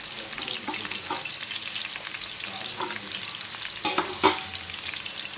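Onions frying in oil for a chicken curry with curd, a steady close crackling sizzle with scattered pops and a couple of louder spatters near the end, no voices.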